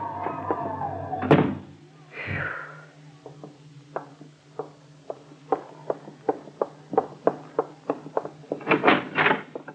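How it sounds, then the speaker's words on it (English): A door in an old 1940s radio drama opens and shuts with a clunk and creak, followed by a run of sharp, evenly spaced knocks or footsteps building toward the end, fairly close and without speech. "I'll open the door for you."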